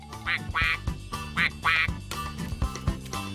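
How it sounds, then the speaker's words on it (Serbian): Quacking duck calls serve as a cartoon phone's ringtone in Tractor Tom, coming in repeated bursts of several close, loud quacks with short gaps between them. "Patke su otišle, ali ja ih još uvek čujem."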